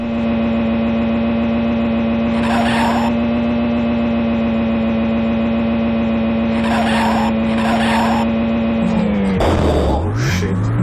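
Synthesized race-car engine from the Amiga game Lotus Esprit Turbo Challenge drones loudly at a steady electronic pitch, with short bursts of game effects on top, before the pitch drops and wobbles near the end.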